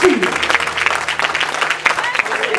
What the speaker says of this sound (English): Give him a hand clap of praise as you see him.